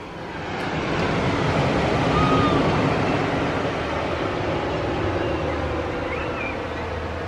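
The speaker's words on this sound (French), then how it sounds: "Avec le bruit des vagues" Sea waves on the Basque coast coming through open windows of an upper-floor flat, a continuous broad wash of surf swelling and easing gently, fairly loud and steady with no talk.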